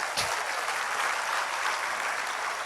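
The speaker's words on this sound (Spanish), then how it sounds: "Un aplauso a Cristo." A church congregation applauds together in a sustained burst of dense clapping that fills the room at an even level for the whole few seconds, with no talking over it.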